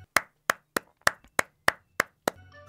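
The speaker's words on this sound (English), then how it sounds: "I will now pause for approximately 3 seconds for a round of applause." A single person claps eight times at an even, steady pace, sharp and close, then the clapping stops.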